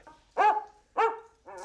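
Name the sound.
dog barking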